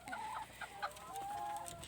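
Laying hens on a small Thai egg farm clucking and calling in short bursts, several birds close by over a steady barn hum, with no talk.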